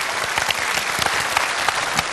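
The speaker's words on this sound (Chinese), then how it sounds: "掌声感谢这位叔叔，谢谢。" Dense, steady applause from a studio audience on a Chinese family health TV talk show, loud and close, filling the whole moment without pause.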